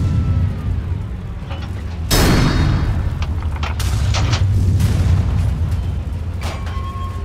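A tank cannon fires once in the video game Steel Titans, a loud, sharp boom partway through followed by a rumbling tail over steady battle background noise.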